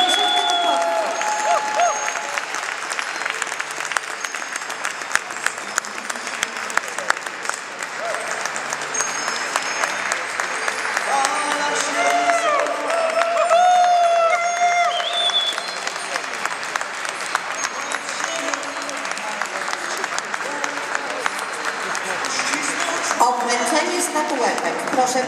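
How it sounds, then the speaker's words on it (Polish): A large audience at a carol competition gala applauds for a long stretch, a dense and steady wash of clapping with a few cheers, while a presenter's voice carries over it. "Proszę Państwa, bijmy im brawo"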